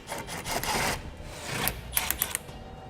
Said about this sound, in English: So we can grab a 13mm socket and remove those 2 bolts.